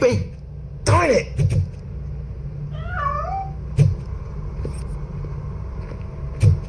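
A cat in RoboCop: Rogue City meows in a rising, wavering cry in the middle, over a low rumbling background with a few thumps and bumps around it.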